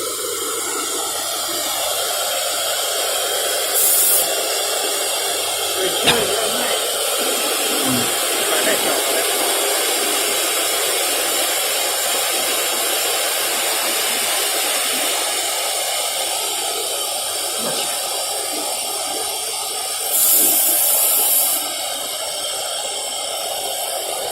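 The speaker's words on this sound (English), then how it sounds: "If you connect the dust collector, you will press this button. This is the switch for dust collector." A CNC router's dust collector runs as a steady, loud broadband whoosh of rushing air throughout, with a couple of brief brighter bursts partway through.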